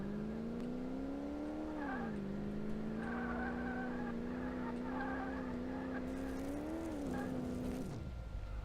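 Tires skidding and squealing in Car Mechanic Simulator 2018 while an engine drones steadily, a sustained, wavering tonal whine with a brief dip partway through before cutting off near the end.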